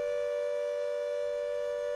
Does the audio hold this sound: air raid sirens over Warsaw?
yes